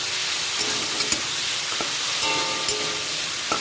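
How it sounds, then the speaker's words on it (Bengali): Prawns frying in hot oil as they are stirred, a steady dense sizzle with a few brief clinks and pops, close and fairly loud, with no voices. "সব মাছগুলো আমি তেলের মধ্যে দিয়ে দিলাম"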